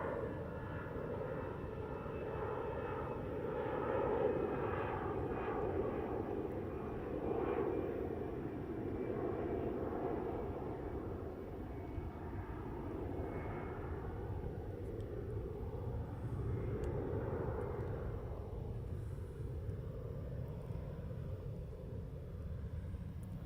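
An Aer Lingus airliner taking off from Heathrow runway 09R, a steady distant jet engine roar that swells and fades slowly over about twenty seconds, with no voices.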